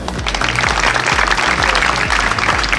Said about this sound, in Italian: un applauso anche a lei